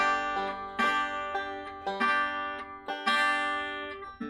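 A banjo is picked up close in a slow roll over open strings, each bright note ringing with a metallic twang, and a louder two-string pinch lands on the beat among the single notes.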